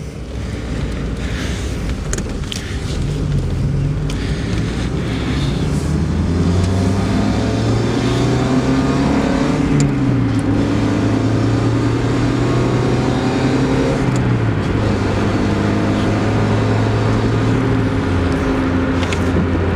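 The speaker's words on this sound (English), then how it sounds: "not a bad accelerating vehicle folks, that's 50 miles an hour." A 1990 Mazda Miata MX5 accelerates while driving, its engine note climbing through several gears with drops at each shift, loud and steady inside the car over constant road and wind noise.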